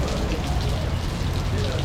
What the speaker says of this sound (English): this is the hardest it's rained since we've been here